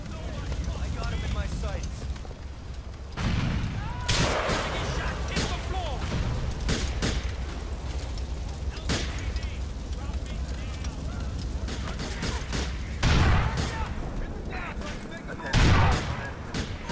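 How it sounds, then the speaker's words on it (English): Bursts of gunfire and heavy booming explosions crackle through a dense, noisy battle, with several loud blasts standing out above the constant din. "cool guys don't look at explosions"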